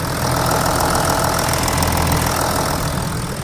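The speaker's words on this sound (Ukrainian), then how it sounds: "мотор працює, мурчить" A 2015 Audi A6 engine idles loudly up close, a steady rumbling hum with a rapid, even knocking pulse and no talking.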